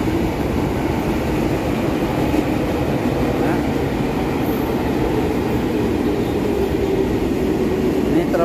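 A commuter train rolls past at Dukuh Atas station in Jakarta, a loud, continuous low rumble and roar of wheels on rails holding steady throughout, close by, with no clear talk.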